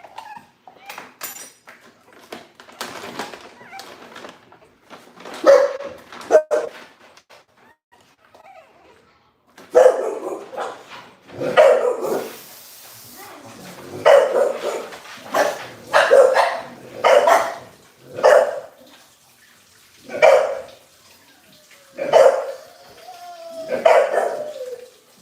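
An American Bully puppy barks and yips in a nearby room, a few scattered barks at first and then a steady run of loud, evenly spaced barks, with brief whimpers and faint talk in between.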